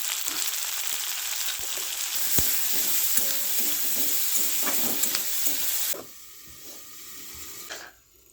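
Potato and onion fry together in a pan with a loud, steady close sizzle and a faint stirring scrape, then the sizzle drops sharply as the pan is covered and goes quieter still near the end.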